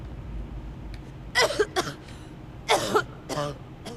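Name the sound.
coughing and heavy breathing of a Fallout 4 character, video game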